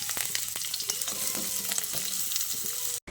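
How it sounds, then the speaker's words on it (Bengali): Chopped onion hits hot mustard oil in a wok, giving a loud, steady sizzle with the scrape and clink of stirring throughout and a brief drop to silence near the end. "তো তেলটাকে খুব ভালো করে গরম করে নিয়ে আমি এর মধ্যে কেটে রাখা পেঁয়াজটা দিয়ে দিচ্ছি।"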